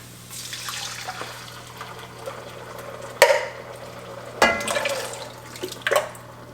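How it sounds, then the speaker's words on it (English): Tomato sauce and crushed tomatoes go into a pan while making marinara: wet plops and splashes, with a few sharper pours and drips standing out, close and moderately loud, and no voices. "now I'm adding in our tomato sauce and our crushed tomatoes"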